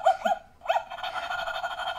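A Robo Dog toy gives a few quick electronic yips and barks up close, then holds a steady buzzing, whining tone to the end.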